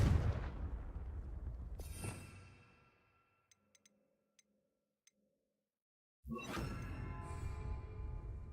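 A Confringo blasting spell from the Hogwarts Legacy video game bursts loud and close with a fiery explosive roar, then fades into near silence broken by faint ticks before another loud blast erupts.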